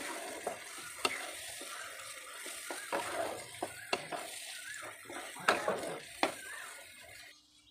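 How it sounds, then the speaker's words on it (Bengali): Chopped boiled tomatoes stirred in an uncovered pan, with scattered scrapes and clinks of a utensil against the pan over a soft sizzle. The taps are irregular and come close by, and no one speaks. "প্রথম 2 মিনিট কিন্তু আমি একটু ঢাকা খোলা অবস্থায় একটু নাড়াচাড়া করে নেব এরকম সুন্দর করে"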